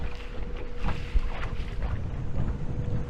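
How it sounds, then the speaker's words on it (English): Wind gusting steadily across a small fishing boat out on open water, a continuous rough rumble of buffeting and microphone wind noise with faint water movement beneath, no talking. "The way this wind is blowing,"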